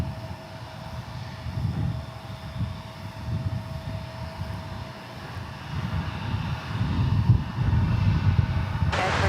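An airliner lines up for takeoff at Dallas Fort Worth airport. Its engines rumble low and steady, with a thin whine on top, and the roar grows louder toward the end.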